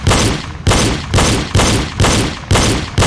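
Pistol gunshots fired at targets on a pistol range, six loud, evenly spaced reports roughly half a second apart, each with a short echoing tail, with no talking.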